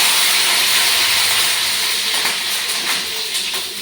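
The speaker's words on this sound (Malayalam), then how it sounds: "കറിവേപ്പില ഇവിടെ വറുത്തെടുക്കാം." Young curry leaves frying in hot oil give a steady, bright hiss and sizzle that fills the whole clip, close and fairly loud, with faint crackles near the end.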